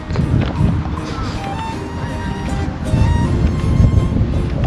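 Strong, cold wind roars and buffets the microphone outdoors near a lake in Canberra, Australia, a steady low rumble with gusts that swell louder toward the end.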